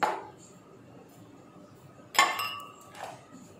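Ice cubes drop into glasses for a tamarind and plum sharbat, giving two or three bright, close clinks with short gaps of quiet between them.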